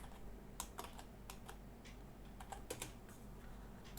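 A computer keyboard clicks under irregular bursts of typing, several crisp keystrokes close up over a low background hum, with no talk.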